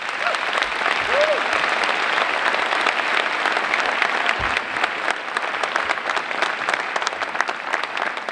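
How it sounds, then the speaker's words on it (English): Steady, sustained applause from a crowd, with a brief whistle early on, continuing throughout without pause. "another big round of applause"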